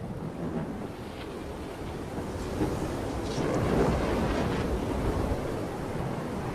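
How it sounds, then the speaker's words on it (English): Strong gusting wind roars across the microphone at an exposed bald eagle nest, a continuous broadband rush that swells louder midway and stays heavy throughout, with no voices. "The winds gusted to 40 miles an hour."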